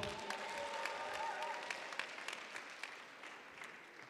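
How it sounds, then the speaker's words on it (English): An audience at an African Student Union cultural show claps warmly, a dense round of applause that gradually thins into scattered individual claps. "So round of applause to you guys as well."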